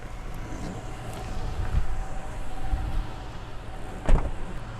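A GX vehicle idles with its engine running and the doors left unlocked, giving a steady low rumble heard from outside. A couple of faint clunks and a short sharp knock near the end break the hum.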